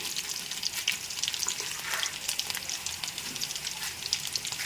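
Chana dal going into hot oil for a Telugu ridge gourd and tomato chutney gives a steady, close crackling sizzle that holds evenly throughout with no talking.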